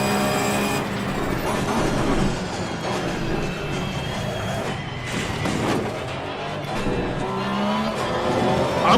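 Race cars roar around the track in Assetto Corsa Competizione, engines droning loudly and steadily for the whole stretch, with tire squeal and scraping contact sounds mixed in.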